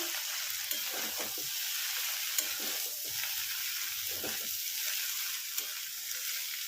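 Ridge gourd pieces stirred into a curry with potatoes frying in a pan, giving a steady close sizzle broken by soft scraping strokes of the spoon about every second.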